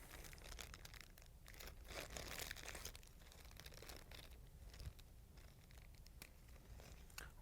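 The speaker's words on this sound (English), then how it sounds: "We're going to remove the syringe from the packaging." A syringe is pulled out of its plastic packaging in a quiet room, giving faint, continuous crinkling and a few soft tearing rustles up close.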